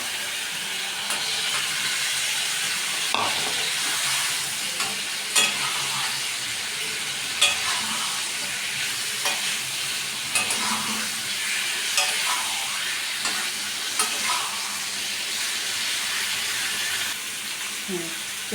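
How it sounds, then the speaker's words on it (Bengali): Fried potatoes stirred into masala with a little water sizzle steadily in a pan, with repeated scraping stirs of a spoon at a rough, regular rhythm, close by. "এবার আমি আলুগুলো দিয়ে দেবো ভাজা আলুগুলো"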